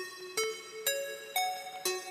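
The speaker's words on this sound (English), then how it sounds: "What I've got right here is I have a test MIDI clip. It's just four notes." Four ascending notes play from an Ableton Live MIDI clip, evenly spaced and distinct, each a bright tone with a sharp attack that steps up in pitch, with no talking.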